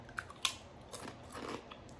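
Crunchy spicy nacho keto snack chips bitten and chewed close up, a few sharp crunches followed by softer chewing, quiet and alone.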